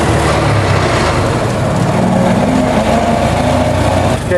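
A 1924 Ford Model T pulling away in second gear, a steady loud mechanical engine drone with clatter and road rumble, close and continuous without talk.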